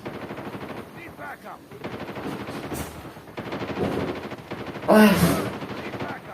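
Video game gunfire from shooting enemies rattles in quick bursts, with a louder burst near the end, heard under casual talk from people in the room.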